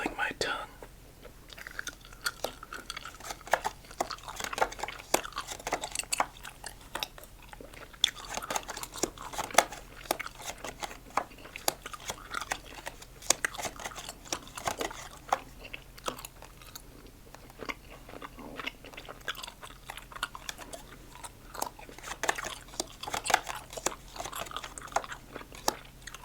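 Cinnamon gum is chewed right up close: wet, sticky mouth clicks and soft crunching repeat steadily for the whole stretch, quiet and intimate, with faint whispery sounds at times.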